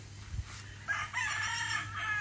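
A Dink Fair Sweater gamecock rooster on a farm crows once, a short, fairly faint call that rises and holds over a low steady hum.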